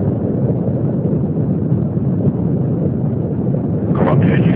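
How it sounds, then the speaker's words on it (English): Space Shuttle Columbia's main engines roar at full throttle during the STS-107 launch in 2003, a loud, steady, wind-buffeted rumble heard from afar and continuing unbroken throughout. "the main engines beginning to rev up to full throttle"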